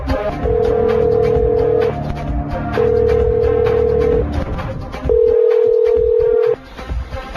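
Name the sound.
telephone call ringing on a phone line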